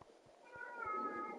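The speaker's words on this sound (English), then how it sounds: "On cue, the cats don't shut up." A house cat meows in a drawn-out, rising wail that is faint and low in level, with soft clicks and room noise around it and no talking.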